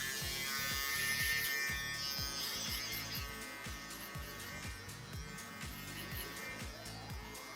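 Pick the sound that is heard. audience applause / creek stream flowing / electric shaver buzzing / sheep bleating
electric shaver buzzing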